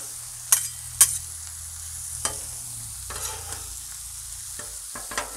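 Kielbasa, pierogies and onions fry on a hot griddle, a steady sizzle broken by a few sharp metal spatula scrapes and clacks as the food is stirred and combined, close and clear.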